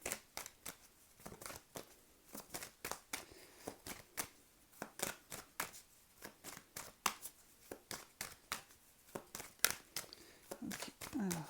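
Tarot cards are shuffled before a reading, giving a quick run of crisp, snappy riffling bursts in a steady rhythm, close and fairly quiet, with a voice speaking briefly.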